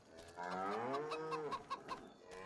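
Cows lowing and chickens clucking in a farming video game, a short drawn-out moo with faint clucks trailing after it, fairly quiet and with no talk over it.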